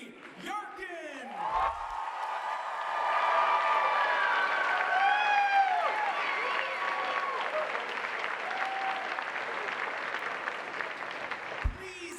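Applause and cheering break out at the 2024 VHS high school graduation ceremony for the graduating class, a sustained wash of clapping with whoops and shouts rising above it, close and loud for about ten seconds.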